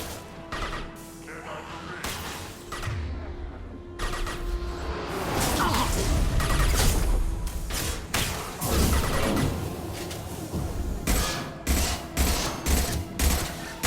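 Squad gunfire in a Mass Effect Legendary Edition battle, with dense, sustained bursts of shots and impacts running through most of the clip, loud and close, with brief gaps and a few distant voices.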